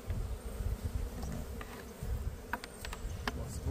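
Honey bees in an open hive hum in a dense, steady buzz close by, with individual insects flitting and droning past in brief louder passes.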